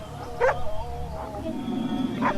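In the Turkish horror video game İblis 3, dogs bark three separate times at a middle distance, sharp and yelping, over a low eerie ambient drone.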